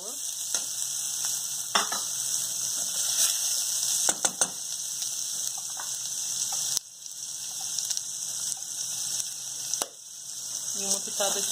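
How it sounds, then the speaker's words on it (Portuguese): Chopped garlic and onion sizzle steadily in a hot pan, with a few brief scraping stir strokes breaking through the continuous close-up crackle. "Aqui estou refogando o alho e a cebola"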